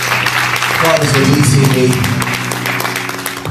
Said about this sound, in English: Clap your hands all over the building.